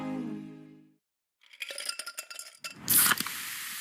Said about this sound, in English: That's the sound of Pepsi Zero Sugar.